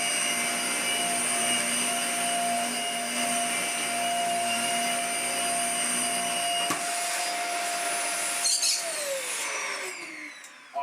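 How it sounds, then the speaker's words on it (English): A Dyson UP15 upright vacuum cleaner, rebuilt from two units, runs with a steady close whine and airflow roar for about nine seconds, then its motor winds down with a falling pitch. "the result is a very decent vacuum cleaner"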